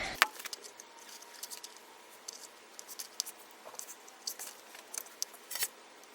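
Scissors snip through fabric for a wristlet in a quiet room: soft, irregular clicks and cuts scattered across several seconds, close and faint, with no voices.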